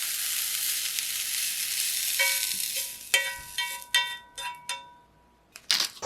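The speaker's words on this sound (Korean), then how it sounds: "남아있는 브로콜리도 재빨리 구워줄게요" Broccoli pan-roasts in a hot skillet with a steady, close sizzle that fades as a series of sharp metallic clinks and scrapes from stirring cut in toward the end.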